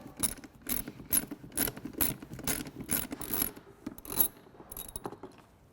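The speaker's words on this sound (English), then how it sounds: "We'll start by removing the T30 Torx fastener that holds the seat down." A Polaris seat's T30 Torx fastener is backed out with a ratchet, giving a close, steady series of rhythmic metallic clicks with a few short pauses.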